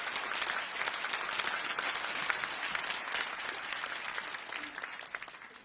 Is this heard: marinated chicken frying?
no